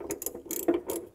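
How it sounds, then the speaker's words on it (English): Rapid ratcheting clicks from a socket tool turning a CNG filter on a 2012 Honda Civic, several quick close bursts of pawl clatter heard alone. "we'll just rotate it till it fits on there"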